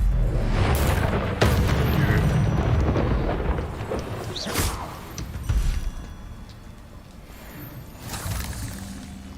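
Confringo blasting spell explosions in Hogwarts Legacy, heavy booming blasts with deep rumbling tails, several impacts in succession at close range, one voice speaking briefly among them.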